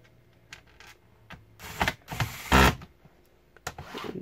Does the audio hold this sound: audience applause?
no